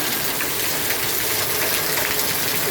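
Heavy summer rain pours steadily on potted garden roses, a dense, continuous hiss of drops close by with no pauses, and no voices.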